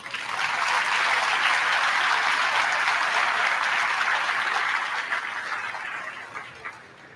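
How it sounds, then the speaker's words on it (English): A hall audience applauds National Honor Society members at a high school induction ceremony, a sustained wash of many hands clapping that holds steady, then thins and fades toward the end. "So please clap it up for all of our members of the society."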